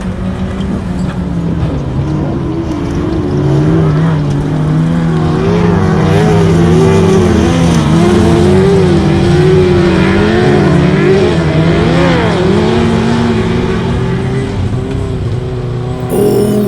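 Autograss racing cars bounce and pound over a bumpy grass track, several engines snarling and revving together in a continuous, loud, shifting roar with rising and falling pitch as the pack races close by.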